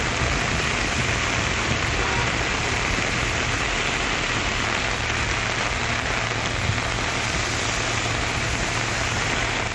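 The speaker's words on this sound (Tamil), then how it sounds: "சென்னை ECR மற்றும் OMR சாலை பகுதிகளில் காற்றுடன் கனமழை பெய்ததால் வாகன ஓட்டிகள் அவதிக்குள்ளாகினர்" Heavy, wind-driven rain falls on Chennai's ECR and OMR roads, a dense, steady hiss of downpour that stays loud and unbroken throughout.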